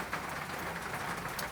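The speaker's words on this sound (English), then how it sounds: "It's raining pretty hard where I'm at" Heavy rain falls steadily as a constant, dense hiss with fine patter, moderately loud and unbroken throughout.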